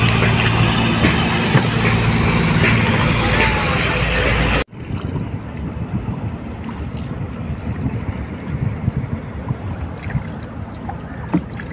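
A small boat moves across open water, with a steady wash of water and wind buffeting the microphone, broken by an abrupt cut partway through, after which quieter lapping and splashing continue.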